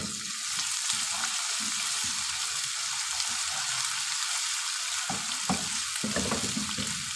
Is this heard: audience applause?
no